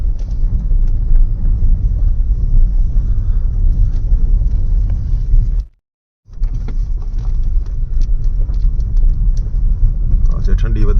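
A car cruises along a highway on a cold morning, giving a steady, loud interior road rumble and engine drone that cuts out abruptly for about half a second before resuming.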